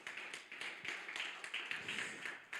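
A church congregation gives a brief round of applause. Many hands clap in dense, quick, fairly faint patter that runs steadily throughout.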